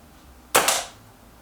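A single sharp crack of a Kral NP-03 air rifle shot at a target, close and loud, with a second quick snap right after and a short fading tail.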